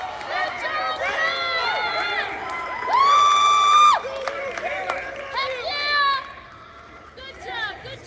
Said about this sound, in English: Got a wonderful cheering section here for the Knights.